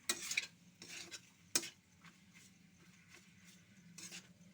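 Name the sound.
pasta being stirred and mixed with meat in pan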